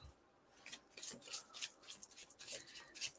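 Tarot cards being shuffled during a live psychic reading, a run of quiet, crisp riffling and sliding bursts close to the microphone, soft and irregular in rhythm.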